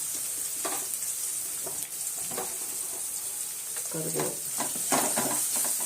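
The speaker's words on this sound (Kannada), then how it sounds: "ಚೆನ್ನಾಗಿ ಫ್ರೈ ಮಾಡ್ತಾರೆ" Garlic followed by curry leaves fry in a hot pan for a mango rice dish, a steady sizzle broken by intermittent stirring scrapes and clinks, close and moderately loud with no talk.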